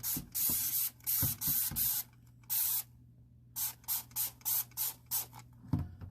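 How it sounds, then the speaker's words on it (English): Repeated bursts from a trigger spray bottle spraying cleaner onto a Ninja Foodi Grill screen, a few quick sprays, a pause, then a rapid run of short even sprays, close and loud. "I'm just going to spray this all."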